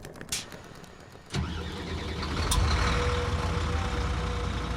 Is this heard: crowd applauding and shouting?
no